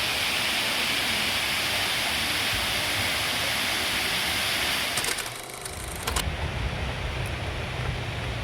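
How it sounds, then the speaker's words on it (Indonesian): Dlundung Waterfall at Trawas, Mojokerto, roars as a steady, dense wash of falling water, loud and close, briefly broken by a few seconds of rustling and handling noise. "Dlundung Waterfall."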